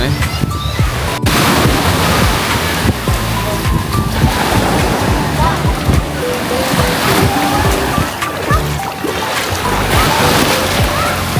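Surf at Punggai beach in Pengerang, Johor: a steady, loud wash of breaking waves with wind buffeting the microphone throughout, and faint voices somewhere in the background.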